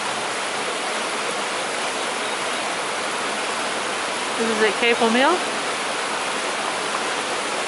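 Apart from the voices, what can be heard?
canal water overflowing down a wall toward river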